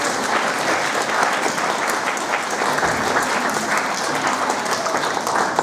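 An audience at a St. Nicholas celebration in Žatčany claps together, a full, continuous round of fairly loud applause lasting several seconds with no speech over it.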